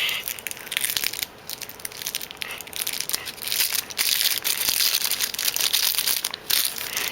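Plastic wrapping around a Figma figure accessory crinkles and crackles continuously up close, a dense rustling with brief pauses as it is handled.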